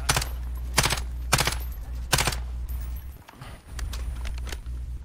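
Rapid bursts of gunfire in Call of Duty Warzone squads play, several sharp volleys spaced across the first seconds, then scattered lighter shots over a steady low background rumble.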